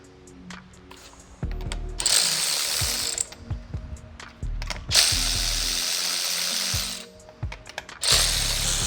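A socket set ratchet removing the wheels of a BMW 735i: repeated bursts of rapid clicking pawl action, several seconds each, broken by short pauses with faint clunks of the socket and tool close up.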